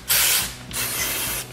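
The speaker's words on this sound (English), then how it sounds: "So you take some carb spray," Two long hissing bursts of carburetor cleaner sprayed onto the carburetor of a Tecumseh 6 hp small engine, loud and close, separated by a short pause with no talking.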